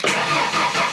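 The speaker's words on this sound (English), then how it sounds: "That is neutral and we should be able to start the car." A car engine starting and running in neutral after a B&M Hammer shifter install, a steady, loud mid-pitched engine sound filling the whole short stretch without talk.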